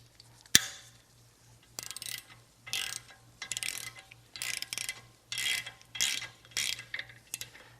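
A ratchet tightens front brake bolts on a VW MK7 GTI, one sharp metallic knock followed by about eight short, evenly spaced clicking bursts in a quiet garage.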